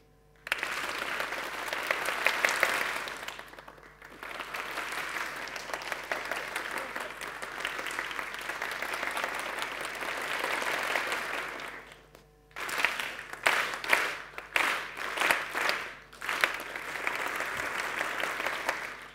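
Audience clapping on a conductor's cue during a music education session, dense bursts of applause that start and stop abruptly in several sections, the last sounding as choppy stop-start clapping.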